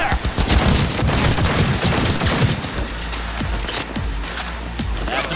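Dense gunfire in Cyberpunk 2077 video game, rapid overlapping shots and bursts forming a loud continuous fusillade, with low booms and rumble under it.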